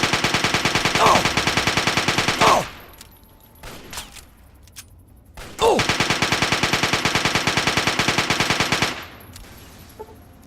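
Rapid automatic gunfire in Fallout 3 comes in two long loud bursts with a short quiet gap between them, plus a few scattered single shots.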